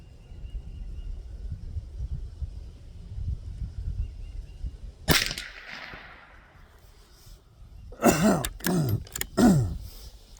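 A man with a cold and bronchitis coughs and clears his throat in a quiet room: one sharp rasping burst midway, then a cluster of several harsh throat-clearing coughs near the end.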